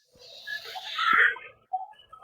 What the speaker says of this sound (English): What was that noise? It sounded like breathing.